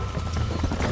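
Horse hooves clip-clopping in the video game Red Dead Redemption, a steady run of hoofbeats over a dense bed of game noise, close and moderately loud.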